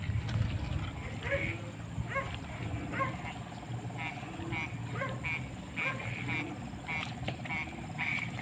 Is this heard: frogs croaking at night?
yes